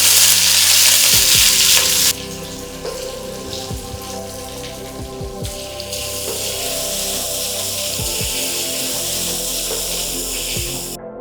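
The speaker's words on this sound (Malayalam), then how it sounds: "ഉള്ളിയും മഞ്ഞൾപ്പൊടിയും ആദ്യം നമുക്ക് വഴറ്റിയെടുക്കാം." Onions and turmeric powder sauté in a pan for chicken thoran, a bright, loud sizzle that drops to a softer steady crackle, with occasional spatula scrapes against the pan.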